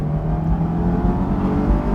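A 2009 Honda S2000 CR engine revs hard, a loud steady high-rpm drone heard from close inside the car, sustained throughout with no talking.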